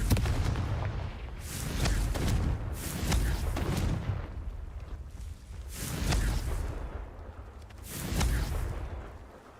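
Repeated Confringo fire spell blasts in Hogwarts Legacy, four booming explosive bursts spaced roughly two seconds apart, each with a rumbling low end and crackling fiery tail, loud and close.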